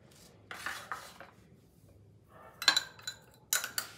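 Chicken Manchurian being stirred with tomato sauce in a pan, a few scraping spoon strokes and clinks against the metal, quiet and intermittent with pauses between bursts.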